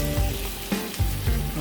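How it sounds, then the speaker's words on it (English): Chicken pieces sizzle loudly in a hot pan for butter chicken, a close, constant frying hiss with a few stirring knocks. "That's sizzling."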